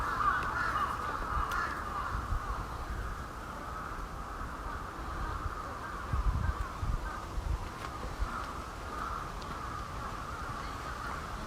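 Many crows cawing together in a noisy, continuous chorus, fairly distant, over a low outdoor rumble with no talking, at a shrine in Suginami Ward, Tokyo, Japan.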